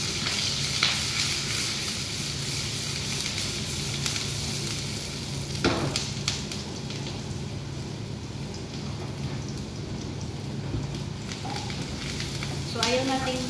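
Onions sizzling in a hot pan before garlic goes in, a steady loud crackling hiss throughout with a few light clinks of stirring, close by.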